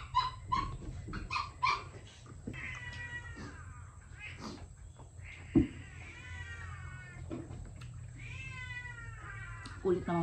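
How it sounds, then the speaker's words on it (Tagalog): Several household pet cats meow repeatedly, close and insistent, in a string of drawn-out calls mixed with shorter mews, over a low background hum. "Kulit ng mga pusa namin."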